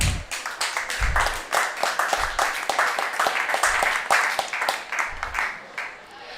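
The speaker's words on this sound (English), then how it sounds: "Can we get a round of applause here?" A few people clapping during a podcast on scaling sales development teams, a steady, quick patter of hand claps close to the microphone that holds for several seconds and then thins out at the end.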